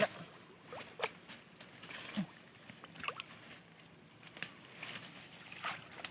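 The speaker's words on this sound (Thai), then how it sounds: "แม่นฝนตกนี่" Rain falls outdoors in a natural setting where a bamboo fish trap is being set, making a steady, fairly faint patter scattered with sharp drips and small splashes.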